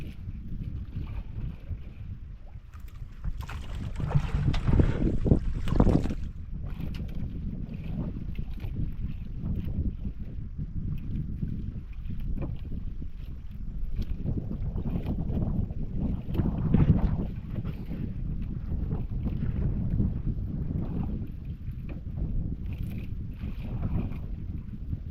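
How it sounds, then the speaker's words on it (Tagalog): Wind buffets a small fishing boat at sea under the northeast monsoon, with low, steady rumbling gusts and a stronger swell of noise partway through, and no talking. "Ang hangin."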